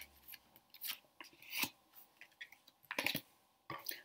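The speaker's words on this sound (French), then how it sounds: "Donc on va retourner toutes les cartes" Witch-themed tarot cards being turned over one after another, producing close, crisp scraping and flicking bursts separated by short quiet gaps.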